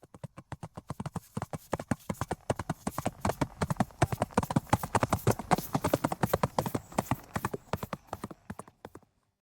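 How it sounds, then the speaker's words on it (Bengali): Horse hooves of cavalry soldiers galloping, a loud, fast and steady clip-clop of many beats that starts right away, holds its pace close by, then stops abruptly near the end. "ধুলোবালি উড়িয়ে ঘোড়সাওয়ার সৈন্য ছুটে আসছে"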